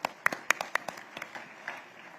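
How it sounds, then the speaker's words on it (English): Scattered, sparse clapping from an awards ceremony audience, with a few sharp claps up front that quickly fade into faint, thinning applause. "A huge round of applause again"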